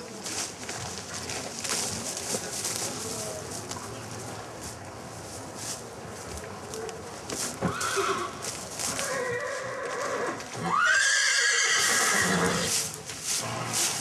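A mare in a French stable yard lets out a loud, rising whinny in the second half, with the clip-clop of hooves and general yard ambience underneath.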